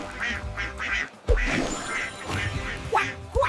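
Repeated quacks mimicked by a voice in a cheerful phonics alphabet song, a short run of close, bright calls with a brief gap and two sharper quacks at the end.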